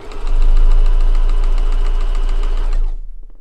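Sewing machine stitching back over the tag loop of a Christmas stocking, a loud, fast, even mechanical whir that runs for about two and a half seconds, then stops and leaves a faint rattle.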